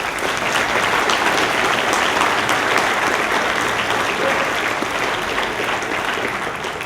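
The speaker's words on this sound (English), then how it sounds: "Please give them a round of applause." A large school audience at a veterans assembly applauds in a steady, loud wash of clapping that barely varies for the whole stretch and eases only slightly at the end.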